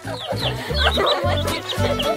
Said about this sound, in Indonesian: Lihat ini ayam asli. Sangat kecil dan sangat imut.